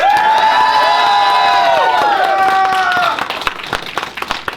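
A convention crowd at a Q&A with Doug Walker, the Nostalgia Critic, at Kollision Con 2012 cheers and applauds loudly for about three seconds, with whoops and sustained shouting that then thins into scattered claps.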